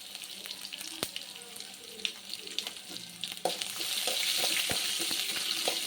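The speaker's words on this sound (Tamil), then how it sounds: "இஞ்சி 2 பல் பூண்டும் கொஞ்சம் வதங்கலாம்" Ginger and garlic cloves sizzle and fry in a pan, a steady crackling hiss that swells louder in the second half, with a few sharp clinks and stirring knocks along the way.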